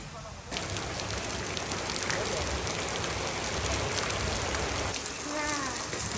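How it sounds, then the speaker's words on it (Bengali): Heavy morning rain pours steadily over a village, a dense, unbroken hiss that stays loud from start to finish. "বৃষ্টি হচ্ছে"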